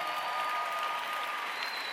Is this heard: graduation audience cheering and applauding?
yes